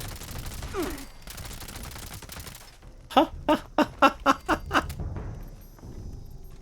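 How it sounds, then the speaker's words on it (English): Gunfire in Fallout 76: a steady rattle of shots opens, then a sharp burst of about seven loud, evenly spaced shots follows, set against a low outdoor rumble with no talking. "Oh, someone's shooting me from above."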